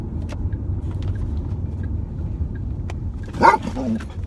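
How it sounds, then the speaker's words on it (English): A dog inside a car lets out a single sharp bark close by over the low hum of the moving vehicle, with a few faint clicks and rustles around it. "I'm not used to having a dog in the car with me."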